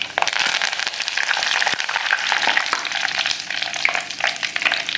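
Curry leaves crackle and sizzle in hot oil already holding fried mustard seeds, fenugreek and cumin, a dense, steady spitting hiss with sharp pops throughout, close and loud, with no talking.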